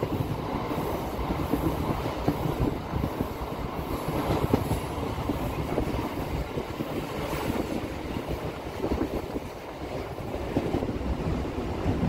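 A local passenger train on the Tarakeswar to Goghat line rumbles along, heard from inside with continuous loud wheel noise, rhythmic clatter over rail joints and a faint squeal, without talking.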